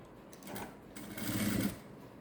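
A sewing machine stitches a silk blouse, running in a soft, steady whir that swells briefly in the middle before easing off, close by with no talking.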